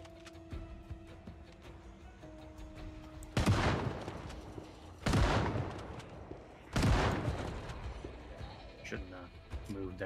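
Three loud shotgun blasts from a video game, spaced about two seconds apart, each with a sharp crack and a decaying boom, set against quiet game ambience.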